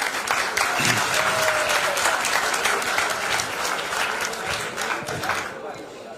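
Sustained audience applause fills a hall during an agricultural products training session, dense steady clapping from a large crowd with a faint voice beneath, easing slightly toward the end.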